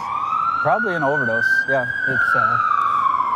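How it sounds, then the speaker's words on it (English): An ambulance siren passes behind the speakers, a loud continuous wailing tone that holds steady nearby while someone talks over it. "Where do you think that ambulance is going to that we can hear behind us?"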